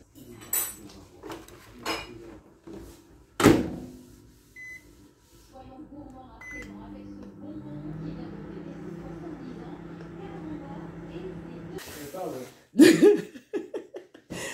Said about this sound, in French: on va réchauffer ça au micro-ondes, on va voir ce que ça donne